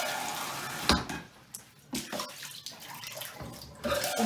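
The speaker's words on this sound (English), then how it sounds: "Instead of letting the water run and having the tub fill up, let it run down the drain between each one." Water from a cup rinses a bathtub during removal of a non-slip tub coating, splashing in several bursts across the tub and draining away, close and moderately loud with no talk.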